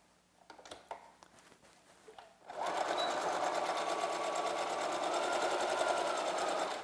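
After a few soft handling taps, a sewing machine starts stitching a cloth face mask, running in one loud, steady, rapid whir until the end.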